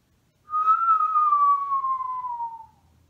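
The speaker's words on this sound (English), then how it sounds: "I use my wind inside my body to whistle." A single sustained whistled note, clear and close, gliding slowly downward in pitch for about two seconds before stopping.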